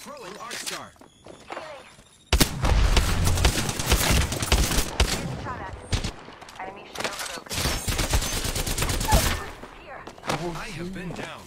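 Gunfire from enemies in the video game Apex Legends, dense rapid bursts of shots that come in long loud volleys with short gaps, a thump and a few quieter clicks and footsteps early on.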